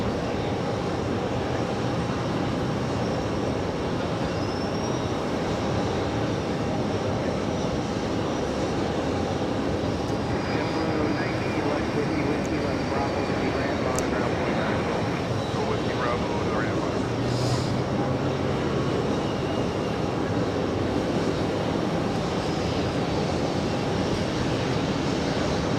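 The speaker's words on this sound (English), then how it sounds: "on his takeoff roll, there it goes. Quadjet action happening" A four-engine jet airliner rolls for takeoff at JFK airport, a steady broad roar of jet engines lasting throughout at moderate distance, with people talking over it.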